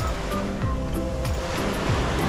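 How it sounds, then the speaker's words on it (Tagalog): Ocean waves breaking near a marina in Singapore, a constant loud churning wash of surf with repeated splashes, close and filling the clip with no speech. "Kitang kita mo yung hampas ng alon"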